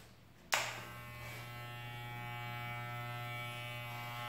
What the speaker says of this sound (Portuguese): Agora do outro lado, eu vou usar o pente 1 baixa.